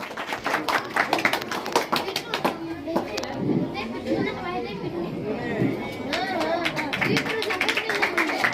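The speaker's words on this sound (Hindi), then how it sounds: "ताली मारो" Clapping from a crowd at a school TLM fair in Bargarh, Odisha, a burst of applause mixed with children's chatter and playful noise, with people talking over it.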